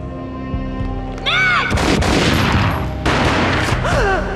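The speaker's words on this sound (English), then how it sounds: "A gunshot boomed and she fell down in slow motion." A loud gunshot booms in a Max Payne video game cutscene, heavy blasts with reverberant rumble, accompanied by dramatic music and whooshing effects.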